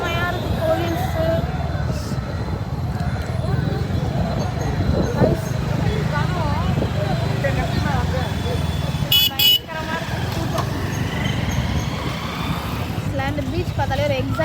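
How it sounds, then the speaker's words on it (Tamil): Heavy road traffic on the way to a beach: a continuous rumble of cars, buses and motorbikes, cut by scattered horn honks near and far, with voices talking over it. "செம்ம டிராஃபிக் ஆகுது"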